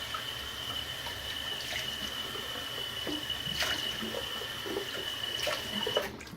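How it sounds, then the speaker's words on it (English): Running water with intermittent small splashes and drips, close by, as hands scoop water to wet a face; no speech. "Wet my face real fast."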